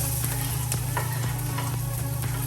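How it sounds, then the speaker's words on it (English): Garlic hits a tablespoon of hot vegetable oil for Chinese chicken fried rice, making a loud, steady close-up sizzle with regular tapping stirs over a low hum. "And I'm going to add my garlic"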